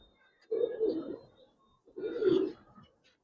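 Giribaz coloring pigeons in a loft give two low, throaty coos, close and fairly soft, separated by a short pause with no voices.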